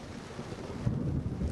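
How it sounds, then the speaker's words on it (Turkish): Low rumbling thunder rolls during a rainstorm in İznik, a steady deep roar mixed with wind buffeting the microphone and rain, growing slightly louder toward the end. "evet, gök gürültüyor"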